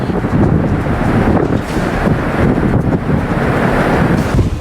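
Cyclone Nivar's strong winds and heavy rain over Chennai make a loud, continuous roar that buffets the microphone and holds steady throughout, with no voices.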